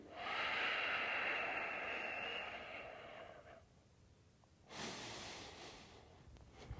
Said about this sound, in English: all we're going to do is breathe